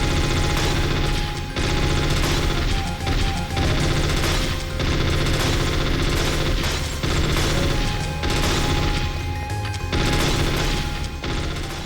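Automatic FAMAS assault rifle fire in Metal Gear Solid VR Missions, dense continuous bursts packed under loud game music and effects for the whole stretch, with no pauses or talk.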